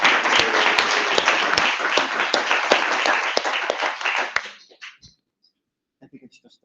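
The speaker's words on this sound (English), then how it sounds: "So can we have a round of applause for all of our staff?" Meeting attendees applaud staff in a brisk round of clapping with distinct sharp claps, dying away after about four and a half seconds, followed by a few faint voices and stray sounds.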